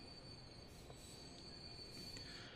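Trains in the Transport Fever video game squeal on the rails, a thin high metallic whine running steadily over a faint rolling rumble of wagons.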